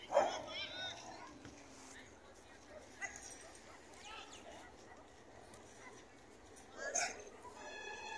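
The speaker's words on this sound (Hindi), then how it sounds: "ये हमारा सीधा साधा सा कुत्ता, ये खेलने के लिए सोच रहा है उनके साथ, लेकिन वो लड़ने की सोच रहा है" Dogs bark and yelp outdoors while one stray defends its territory against a pet dog, with sharp yips at the start and near the end over continuous talk.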